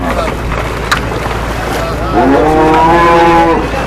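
A cow gives a long low moo while being unloaded from a boat on the Jamuna River, over a noisy outdoor background, with voices and commotion nearby.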